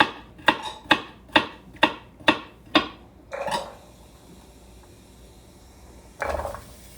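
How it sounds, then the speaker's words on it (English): A knife chops through carrots on a cutting board in seven sharp, evenly spaced knocks, followed by a softer scraping slice and one final heavier knock, close and clear with no talking. "So I'm just getting those carrots to where they're not so big, and then just do a little slice there."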